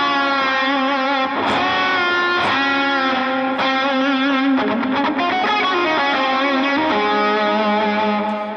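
Distorted electric guitar lead line with string bends and effects, played for a worship song, with sustained harmonic notes, pitch slides and a few sharp picked attacks, loud and steady throughout with no talking.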